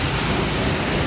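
Steady, loud broadband hiss of water spraying under pressure onto a motorbike at a motorbike wash in Hanoi, Vietnam, continuous and close, with no talk.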